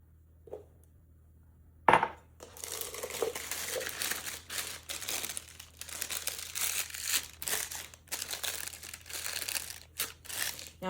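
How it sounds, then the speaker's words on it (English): A plastic sandwich bag crinkles and rustles up close as white chocolate is put into it for piping, after a sharp knock, with the crackling continuing unevenly for several seconds. "I'm going to put them in a bag because I want to cut the bag and pipe a little design on there"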